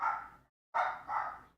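Dogs barking nearby: a single bark, a short pause, then two quick barks in succession, fairly loud and clear against a quiet background.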